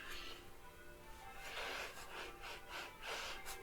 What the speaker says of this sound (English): I'm going to get inside and sniff the devil out of it.